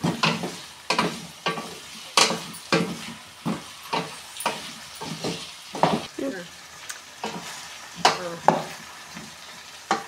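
Stuffed eggplant curry fries in a pan, with steady soft sizzling broken by repeated sharp scraping and clattering knocks as it is stirred, close and irregular throughout.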